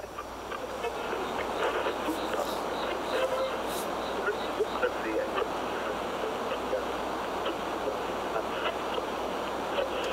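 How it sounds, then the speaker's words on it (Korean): Synthesized noise run through a bitcrusher and blended with an AM radio sample, giving a steady, dense hiss like radio static that fills the whole stretch at an even level. "이렇게 들어보시면은 일단 뭐 라디오에서 나오는 노이즈 같다"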